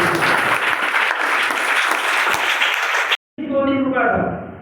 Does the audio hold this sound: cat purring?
no